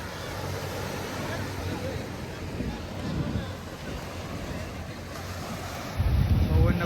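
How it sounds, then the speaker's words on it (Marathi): Sea waves roll and break continuously on the beach at Alibag, a broad wash of surf mixed with wind buffeting the microphone, swelling louder and closer toward the end. "लाटा इथं कसले येतात बघा"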